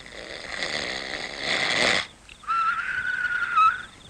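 In a comedy skit, a performer imitates loud snoring: a rough, rattling snore for about two seconds, a short pause, then a shrill, whistle-like exhale.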